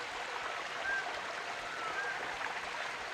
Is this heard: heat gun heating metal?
no